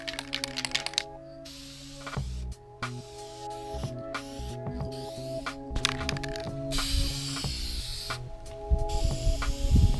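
Clear coat being sprayed from an aerosol can onto a Nissan 240SX valve cover, with short hissing bursts separated by pauses and clicks, close and fairly loud.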